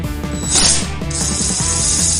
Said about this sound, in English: Take off the left and right carburetor bolt with a 10mm.